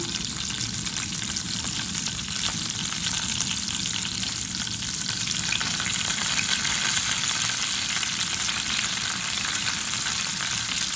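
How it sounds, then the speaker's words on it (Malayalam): Curry leaves sizzle steadily in hot oil in a pan, a dense, continuous frying crackle with occasional stirring, close and fairly loud throughout, with no voices. "ഇതിലേക്ക് കറിവേപ്പില കുറച്ച് ഇട്ട് കൊടുക്കാം."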